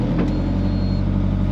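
A 4x4 vehicle pulling away in low gear on soft ground with tyres let down, its engine a steady close rumble that holds level throughout with no voices.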